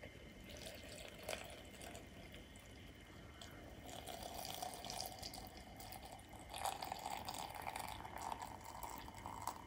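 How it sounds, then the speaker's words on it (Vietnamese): Boiling water poured into a bowl of butterfly pea flowers, a steady watery trickle and splash with occasional drips, fairly faint and close, no talking. "cho nước sôi vô"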